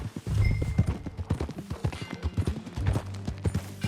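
Horse hooves clip-clop at a riding gait in the video game Red Dead Redemption 2, with a steady run of distinct thuds, close and clear, alongside a low continuous rumble.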